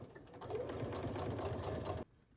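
A sewing machine runs steadily for about two seconds, stitching fabric close to the edge of a tote bag with a soft, even whirring hum, then stops abruptly into near silence.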